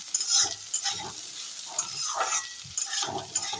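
Snails and onion sizzle and crackle in a hot pan while stirred, with scraping and clinking of a utensil against the metal, fairly close and steady.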